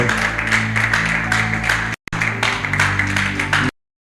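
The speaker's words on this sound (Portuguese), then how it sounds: "Uma salva de palmas para o nosso Senhor" A church congregation applauds in praise, a steady wash of many hands clapping for a few seconds, briefly cut off partway, then ending abruptly into silence.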